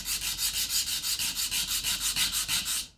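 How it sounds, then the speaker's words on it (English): Steady, rhythmic hand sanding on painted wood: quick back-and-forth rasping strokes, about five or six per second, close and alone. "and then just start sanding."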